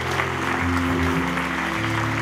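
A church congregation applauds during a Spanish-language communion service, dense clapping held under sustained organ or music tones, with steady level throughout.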